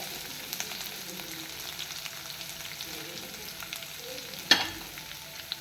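Garlic, ginger and curry leaves fry in hot oil for a star fruit pickle, giving a steady close sizzle with light stirring clicks and one sharp spatter burst near the end.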